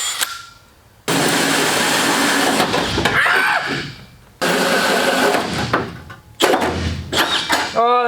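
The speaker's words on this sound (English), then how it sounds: "It's time to drill some holes in the car." Loud bursts of a power drill boring holes into a car's metal body, running in two long stretches with a short pause between and a final shorter burst.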